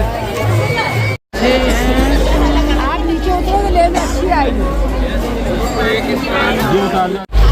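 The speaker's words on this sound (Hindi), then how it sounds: "ये देखिए गाइस कितनी ज्यादा यहाँ पे भीड़ है, आप देख सकते हैं पूरे मंदिर के चारों तरफ ही भीड़ ही भीड़ है" Dense crowd bustle around a temple on Mahashivratri, constant babble of many voices and vehicle noise with someone talking close over it throughout.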